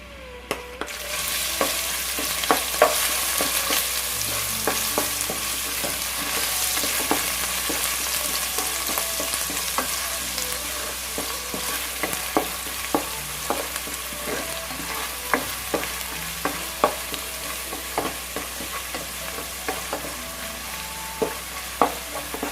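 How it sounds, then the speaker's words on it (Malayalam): Crushed ginger, garlic and green chilli frying in hot oil for a prawn biryani, a steady loud sizzle with frequent sharp crackles and spatters running throughout, no voices. "നമ്മൾ ചതച്ച് വെച്ച ഇഞ്ചി, വെളുത്തുള്ളി, പച്ചമുളക് ചേർത്ത് കൊടുക്കാം."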